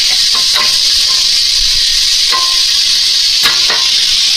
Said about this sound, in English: We're browning a little too fast.